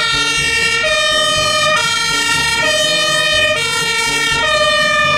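A toy fire engine blares an electronic siren, its wailing tones stepping up and down in a steady repeating cycle, loud and close throughout with no talking.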